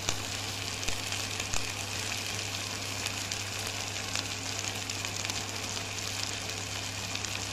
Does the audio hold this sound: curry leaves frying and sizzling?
yes